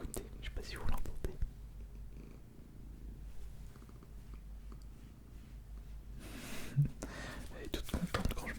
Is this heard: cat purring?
yes